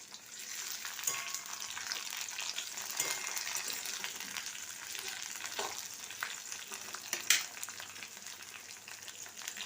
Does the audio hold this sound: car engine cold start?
no